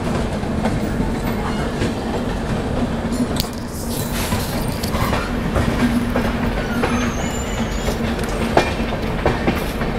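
Shatabdi Express train running just after leaving New Delhi railway station, heard from inside the coach as a loud, continuous rumble with rhythmic clickety-clack of wheels on rails and faint squeals.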